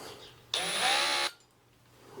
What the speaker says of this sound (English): now we're going to up drill this to the size of the probe, so the probe can go inside